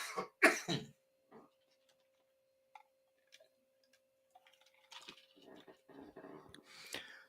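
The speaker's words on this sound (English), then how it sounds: "Sorry for the coughing." A couple of sharp coughs up close, followed by quiet pauses with faint clicks and a murmur of low talk toward the end.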